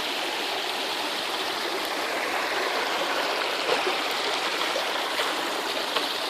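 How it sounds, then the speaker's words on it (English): Water spills down a small waterfall into a creek, a close, steady, hissing rush with faint gurgles throughout and no voices. "The water falls down,"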